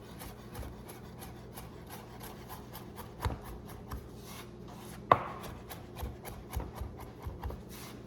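A knife chops herbs and fresh mint on a cutting board while making a cream cheese filling for tiropita, with quick, steady, close taps and one sharper knock partway through.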